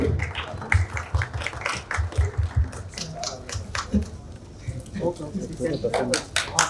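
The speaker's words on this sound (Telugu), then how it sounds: "ఒకసారి గట్టిగా చప్పట్లు." Audience at a movie trailer launch event applauding in bursts of clapping, mixed with crowd voices and people talking throughout.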